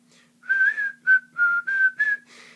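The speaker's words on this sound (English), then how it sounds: "do you know how to whistle? There's different ways to whistle as well." A person whistles a tune in clear, pure notes, phrased in about six separate bursts with short gaps, close and alone.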